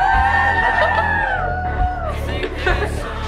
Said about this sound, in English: cheering us on.